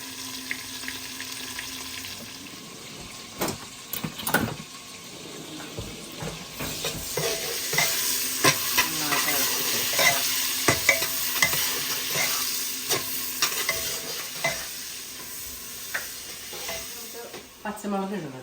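Chopped onions, about three quarters of a batch, fry and sizzle in a pressure cooker for biryani, with steady hissing and intermittent stirring clatter of a spoon against the pot throughout.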